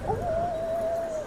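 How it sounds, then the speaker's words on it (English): A dog gives one drawn-out, steady howl or whine lasting just over a second, fairly close and alone over a quiet indoor background. "That's my dog."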